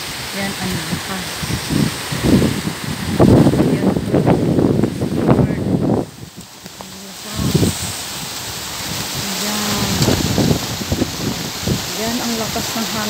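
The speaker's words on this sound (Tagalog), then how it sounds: "Lakas ng hangin po namin dito." Strong wind and heavy rain beside the sea in Dubai, a loud continuous roar with gusts buffeting the microphone, while a person talks throughout over the storm.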